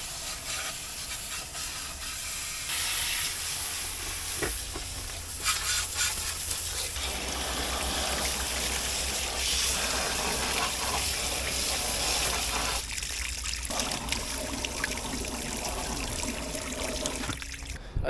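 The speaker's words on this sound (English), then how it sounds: "I pressure washed a lot of it, and I'm just going to use the nozzle to clean out around the engine" Continuous hissing pressure-washer spray, steady and fairly loud, with shifting splashy texture as the stream moves across a corn planter's engine and hard surfaces; no talking.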